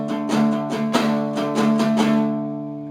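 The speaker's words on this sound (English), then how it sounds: "this time we do the 8-10 power chord." An electric guitar plays an 8-10 power chord riff twice, with chugging, rhythmic strums in quick repeated bursts over a ringing chord that fades at the end.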